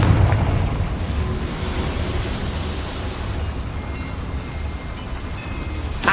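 Confringo fire-blast spell going off inside a small mine in Hogwarts Legacy, a steady loud rumbling roar of explosion and debris that holds for several seconds before a sharp burst at the end.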